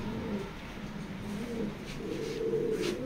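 A light-coloured mealy racing pigeon coos softly and continuously at close range, low and murmuring, with no other sound.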